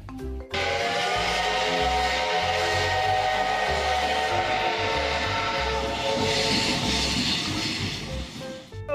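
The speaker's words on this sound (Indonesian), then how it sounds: "Di sini ada yang namanya kereta Thomas." Toy Thomas train sounding continuously with a steady hiss and whistle-like tones, a loud rolling electronic train effect running close by for nearly the whole stretch without talk.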